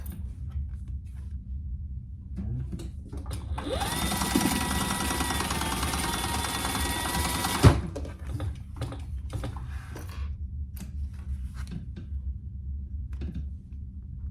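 A sewing machine stitches a name tag onto a wristlet at a 2.5 millimeter stitch length, a steady whirring run of about four seconds rising clearly above a low room hum, with scattered faint clicks before and after.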